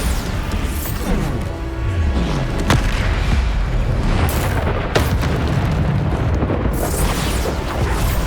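Booming spell explosions from Bombarda go off in Hogwarts Legacy, with loud repeated blasts, crashes and bursting debris layered over dense, continuous combat noise.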